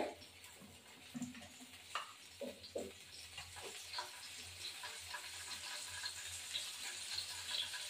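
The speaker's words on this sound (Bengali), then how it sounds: "এই গোটা জিরে দেওয়া হয়ে গেছে" Whole cumin seeds sizzle in hot oil in a pan, a faint, crackling hiss with a few soft clatters, building slightly and continuing steadily.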